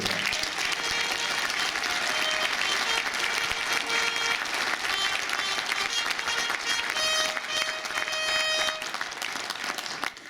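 Dense, sustained audience applause fills a hall at an award ceremony, loud and continuous for about ten seconds with faint music and crowd noise beneath.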